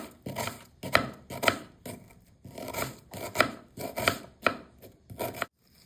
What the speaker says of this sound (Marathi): कांदा आपण बारीक उभा चिरून घेणार आहे